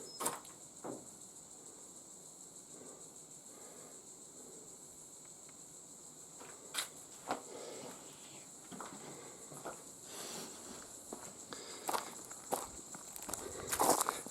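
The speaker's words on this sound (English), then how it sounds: "it's a lovely spot where you can hear the sounds of the trees and the insects in the ground." A quiet bush park at Jarrahdale in the Darling Range, on a rehabilitated mine site, holds a faint steady insect drone, with scattered footsteps and light rustles growing a little louder toward the end.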